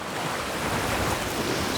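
Ocean waves in heavy weather at night aboard a sailing boat, a dense continuous rush of surf and wind noise buffeting the microphone, loud and unbroken with no talk.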